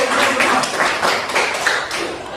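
Applause from a classroom of students, dense overlapping claps filling the room at a steady level for a couple of seconds.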